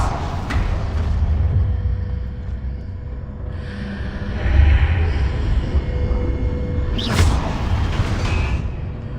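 A Confringo spell blast in Hogwarts Legacy: a deep boom and rumbling low thump swell in the middle, with a sharp crackling burst near the end over steady game ambience.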